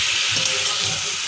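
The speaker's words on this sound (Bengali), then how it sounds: "আর আমি গরম জল আমি দেবো এর মধ্যে অ্যাড করব" Hot water poured into a simmering potol paneer curry, a steady broad hissing wash with a soft bubbling undertone, continuous and fairly loud for a brief moment, no voices.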